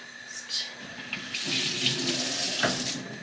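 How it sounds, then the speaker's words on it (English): Tap water runs steadily into a pot or sink for boiling gammon in a home kitchen, a continuous close splashing flow that swells after the first second and holds to the end, with no voices. "I'm going to put a little bit of water in the bottom"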